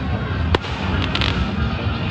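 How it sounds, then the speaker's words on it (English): Fireworks and flares go off at a large party on the water, a dense crackling roar with a few sharper pops and bangs, loud and continuous. "We got flares and fireworks and music."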